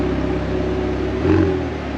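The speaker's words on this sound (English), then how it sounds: "Listen to the engine, the note. Just sitting there idle." A 2021 McLaren 720S Spider engine idles with a steady low rumble and faint whir, a slight swell in the middle, no voices.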